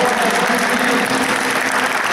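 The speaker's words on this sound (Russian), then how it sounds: "Товарищи, надо аплодировать по-настоящему." Sustained applause from an audience at an award ceremony, steady and dense throughout, loud and close with no talk over it.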